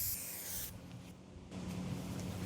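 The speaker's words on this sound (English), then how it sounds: "fold it in half like this and just spray back and forth" Aerosol adhesive sprays from a can onto a folded car headliner in bursts, a steady broadband hiss that pauses briefly midway before resuming close by.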